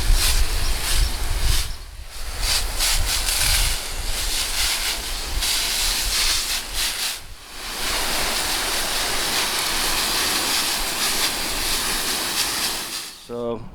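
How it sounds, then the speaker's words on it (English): A hose sprays water over a car engine bay during a first cleaning, giving a continuous loud hissing rush with brief dips where the spray pauses, ending abruptly. "So just a quick douse of water, loosened up everything."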